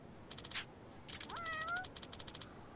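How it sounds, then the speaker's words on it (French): A cat meows a few times in the video game Judgment, short and fairly clear against a low, steady background hum, with a brief high chirp between calls. "Utiliser les miaulements du chat pour vous guider."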